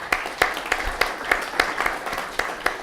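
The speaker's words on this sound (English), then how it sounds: "Now I want to hear a nice and polite clap" Sparse, polite clapping from an audience, individual claps spaced irregularly at a moderate, restrained level.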